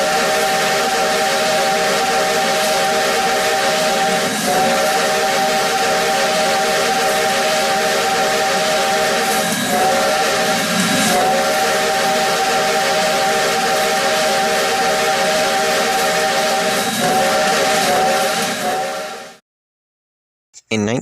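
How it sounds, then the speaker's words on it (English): Steam whistle of locomotive Canadian National 3254, a loud, close, sustained chime whistle with harmonic tones, held for nearly twenty seconds with slight pitch shifts before cutting off abruptly. "her whistle changed for the better. And it now makes that famous sound we all know and love"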